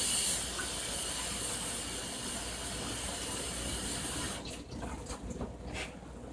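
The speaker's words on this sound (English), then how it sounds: "in this pot of boiling water, we're going to wash our cod" Water in a pot of boiling water as salted cod is washed to remove excess salt: a steady, close rushing hiss fills most of the stretch, then thins and gives way to a few scattered knocks and splashes.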